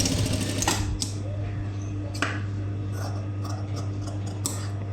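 A sewing machine stitches a blouse front yoke with a steady low motor hum and a few sharp clicks over about five seconds, close and even in level.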